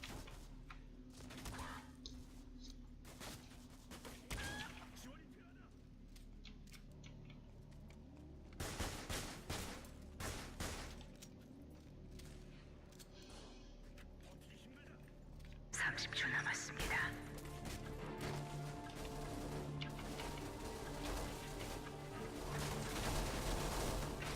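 Gunfire in a shooting video game: repeated sharp shots and bursts, some rapid like automatic fire, scattered through the clip under quiet, whispery talk from players.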